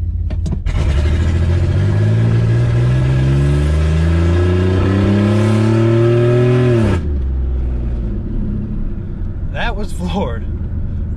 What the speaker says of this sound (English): Okay, so let's floor it here.